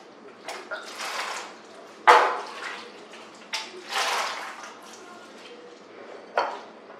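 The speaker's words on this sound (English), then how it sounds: "I'm just going to pour this over the turkey just like this." Water splashes and pours over a turkey in several short bursts, close by, with quiet gaps and faint kitchen clatter between pours.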